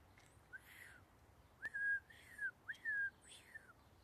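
Birds sing an evening song outdoors, giving several separate clear whistled calls that rise and fall, moderately near against a quiet background.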